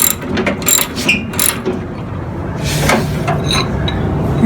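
A ratchet clicks in quick bursts while tightening the deck lift lever on a Snapper 25-inch cut mower, the sharp metallic pawl ticks close and fairly loud, pausing briefly between strokes.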